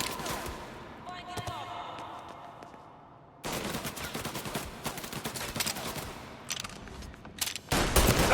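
Bursts of gunfire in the video game Mafia Definitive Edition, with a quieter stretch and then a loud, dense volley of shots cracking together, ending in a sharp burst. Voices talk over part of it.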